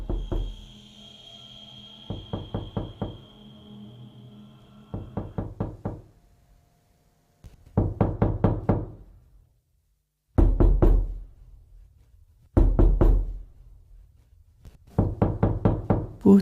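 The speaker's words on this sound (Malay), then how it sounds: "Casey, ibu ketuk pintu bilik kami" Repeated knocking on a bedroom door at night, about six bursts of four or five quick firm raps separated by pauses, loud and close.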